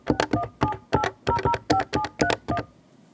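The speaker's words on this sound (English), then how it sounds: "You can either lift the handset and start dialing" Keypad tones from an Avaya 1416 IP desk phone as a number is dialed: about a dozen short, evenly spaced beeps in a steady rhythm, clear and close, with no talking.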